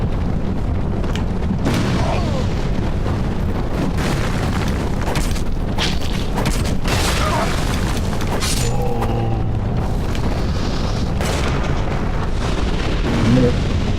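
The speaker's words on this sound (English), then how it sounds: "I'm more concerned with the spontaneous combustion going on." Explosions and spontaneous combustion in the video game Dark Souls 2: continuous loud, rumbling booms and crackling bursts over a dense, noisy background, with sporadic sharp pops throughout.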